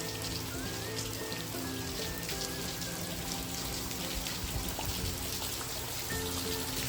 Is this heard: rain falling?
yes